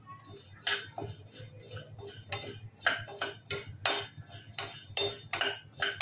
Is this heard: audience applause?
no